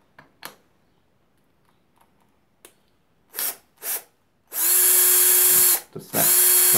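A few sharp plastic clicks and snaps as the chuck of a Parkside 12V cordless drill/driver snaps back on, followed by two long bursts of the drill whirring loudly up close.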